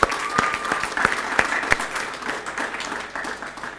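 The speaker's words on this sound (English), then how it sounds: "Another round of applause," Audience clapping for a graduating data science class of 2020 at a certificate handover, a few sharp rhythmic claps standing out over a general round of applause that gradually fades.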